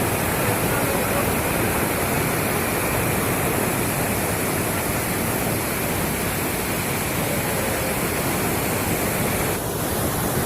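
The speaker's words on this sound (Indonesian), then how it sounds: "Ini lokasi air terjun Alkisang." Steady, dense roar of the Alkisang waterfall at Krung Isep in Beutong, Nagan Raya, Aceh, filling the scene continuously at close range with no talk over it.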